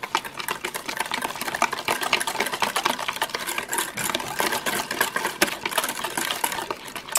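A utensil whisks and scrapes through chaffle batter made with melted cream cheese in a bowl, a close, busy clatter of quick, irregular strokes continuing throughout with no talk.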